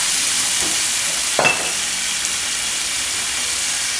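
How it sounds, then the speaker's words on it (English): Shrimp and basil sizzle in a hot pan with a steady hiss, and a brief louder sputter bursts up as a tablespoon of soy sauce is poured in, then settles back to an even fry; no voices. "We add 1 tablespoon of soy sauce."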